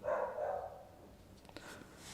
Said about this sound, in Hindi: ये डॉगी शायद मेरी आवाज़ से भौंक रहा है।